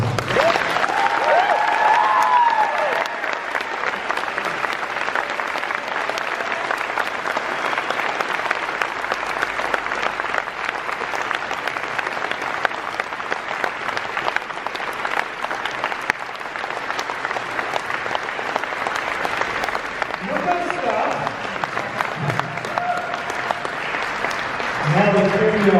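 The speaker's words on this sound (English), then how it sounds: "let's have a big round of applause for Mr. Mustafa Akkad." An audience at a Halloween 40th-anniversary convention panel gives sustained, loud applause for about 25 seconds, with cheers in it and voices near the end.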